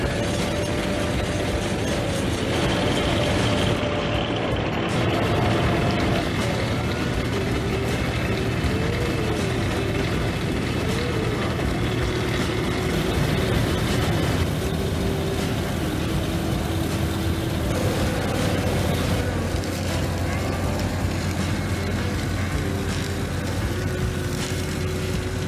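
An onion harvester working a field, collecting onions from beds up to 2.25 meters wide, gives a steady loud mechanical drone with engine hum and rattling parts that runs without a break and has no talk over it.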